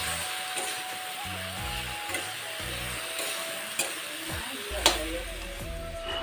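Fish frying with onion, turmeric and salt in oil in a kadai, sizzling steadily with occasional stirring scrapes and clinks, a voice speaking over the cooking.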